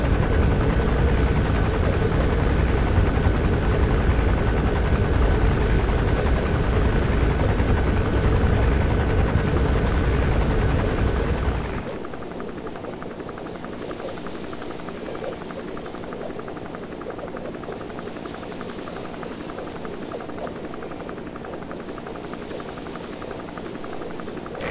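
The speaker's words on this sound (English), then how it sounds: "Looks like the arms dealer's chopper is gonna patrol for the security forces" A helicopter gunship from Metal Gear Solid 5 flies close with a loud, steady rotor drone, then abruptly drops to a quieter, more distant hum for the rest of the clip.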